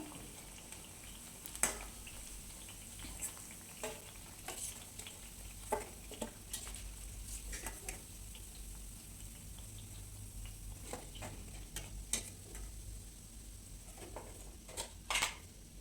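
Bread slices fry in a pan, producing a faint, steady sizzle with scattered soft clicks and taps from handling the slices.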